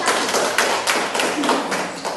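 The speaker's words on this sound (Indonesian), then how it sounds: "Tepuk tangan dulu untuk kelompok" A classroom audience claps for a student discussion group about to present, a dense, steady patter of many hands filling the whole stretch at close range.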